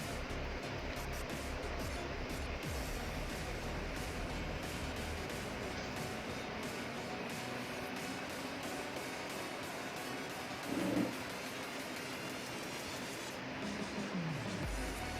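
A sewing machine stitches two layers of fabric for a double-layer baby frock, with a continuous, steady mechanical whir and rapid needle chatter throughout, plus a brief louder thump near the end and no talking.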